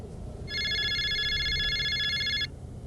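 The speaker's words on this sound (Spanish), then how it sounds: "El teléfono volvió a sonar." A telephone bell rings in one sustained burst of about two seconds, loud and close, over a low background rumble with no talk.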